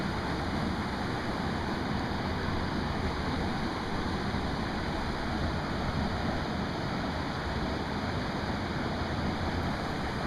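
A waterfall pours into a deep pool on a Pennsylvania trout stream, giving a steady, dense rushing roar that holds unchanged throughout with no voices.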